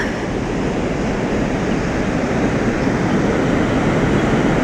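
Ocean surf breaks on a beach along the Robberg trail in South Africa as a steady, dense roar of washing water that runs continuously with no voices.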